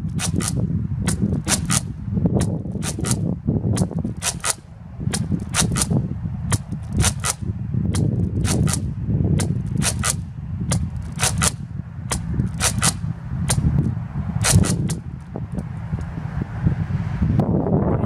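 A toy dart blaster loaded with a 12-dart magazine shoots outdoors in a steady run of sharp, snappy pops over about eighteen seconds. Wind rumble and rustle run underneath the shots.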